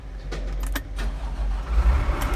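Kalmar DRF450 reach stacker heavy diesel engine starting up, a low rumbling crank and catch with a few sharp clicks over it, close and fairly loud for a couple of seconds.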